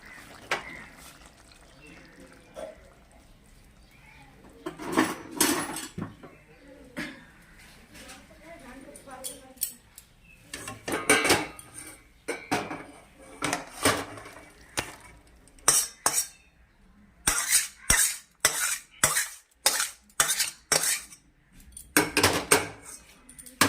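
Small river fish curry being scraped and poured out of a cooking pan with utensils, sharp metallic clinks and clatters in bursts, loudest in a rapid run near the end, while someone talks over it.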